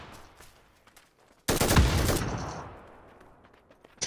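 Gunfire in a video game: one sudden loud burst of shots erupts mid-clip and rings out, fading over a couple of seconds, with quiet background noise before it and no voices.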